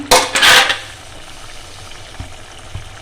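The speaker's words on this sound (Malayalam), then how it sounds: "നമ്മുടെ മീൻ കറി ഒന്ന് തുറന്ന് നോക്കാം" A lid is lifted off a pot of home-cooked toddy-shop-style tuna fish curry with a brief clattering, sizzling burst, followed by quiet kitchen ambience and a couple of soft knocks.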